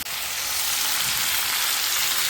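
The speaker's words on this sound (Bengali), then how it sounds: "আর এদিকে আলু ফুলকপিটাও ভেজে নিচ্ছি।" Potato and cauliflower frying in a pan, giving a steady, loud, close sizzle that holds evenly throughout with no voices over it.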